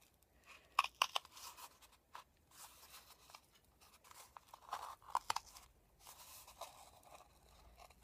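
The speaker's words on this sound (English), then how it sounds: "Get your scissors, and you're going to cut it very thin" Quiet, intermittent crunching snips and scraping as scissors cut through a cardboard paper towel roll, with sharper cuts clustered early and midway.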